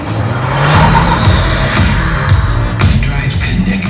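A 2019 VW Jetta pulling away and gathering speed, with a loud, continuous engine and road roar close by and a few sharper bumps toward the end.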